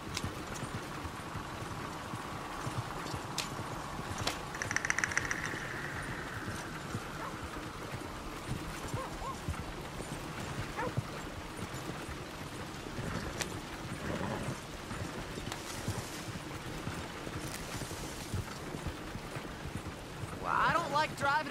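Horse hooves clip-clop in steady rhythm while riding along a road in Red Dead Redemption 2, moderately close, with a faint stream and ambient outdoor sounds and brief whinnies in the background.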